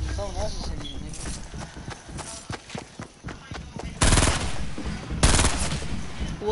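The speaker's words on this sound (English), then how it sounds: "Someone else is shooting you" Video game gunfire in bursts of rapid shots, with louder blasts near the end, heard under excited talking from players.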